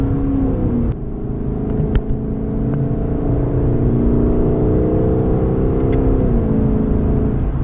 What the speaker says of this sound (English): That exhaust note is so good. It is intoxicating.